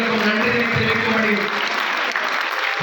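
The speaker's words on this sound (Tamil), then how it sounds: "பக்தகுடி அனைவரும் பலத்த கரகோஷத்தை எழுப்பி குருவுக்கும் குழந்தைகளுக்கும் நன்றி தெரிவிக்கும்படி" Devotees at a gathering applaud loudly for the guru and the children, a steady burst of clapping lasting a few seconds, with a voice speaking over it.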